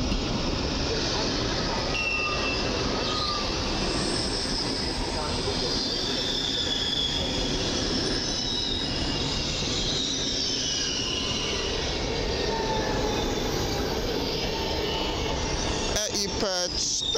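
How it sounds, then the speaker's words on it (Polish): An Express Intercity Premium train rolls into Warszawa Zachodnia station during its modernization, a loud continuous roar of wheels and rail noise with high squealing tones, building steadily throughout while someone talks over it. "A tymczasem zbliża się pociąg Express Intercity Premium."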